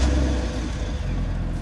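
A toy tanker truck engine hums and revs steadily at close range as it drives away, a continuous mid-pitched motor drone with no talk over it.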